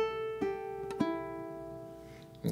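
A ukulele is fingerpicked through a short triplet etude passage. A few quiet, clear plucked notes ring and sustain over about two and a half seconds, alone with no talking.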